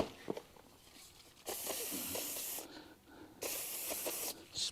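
Aerosol spray cleans the gasket surface of a lawn mower carburetor, arriving as two long hissing bursts close up with short pauses and faint handling sounds between them.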